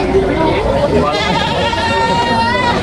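Several goats bleat in overlapping, wavering calls amid a busy crowd of people chatting nearby, the animal cries rising above the steady background babble.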